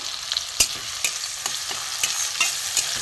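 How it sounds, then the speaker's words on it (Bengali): Onion, garlic and a little potato fry in hot oil with a steady close sizzle, broken by a few sharp scraping strokes as a spatula stirs the pan at roughly half-second intervals. "এই পেঁয়াজ রসুন দিয়ে অল্প আলু দিয়ে আমি একটু কারি করব, একটু ভাজা ভাজা হোক"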